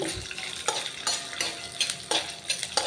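A Telugu-style tempering with chilli powder fries and sizzles in a pan for a bitter gourd fry, with a steady crackle and repeated sharp scrapes of a spoon stirring it, close and alone.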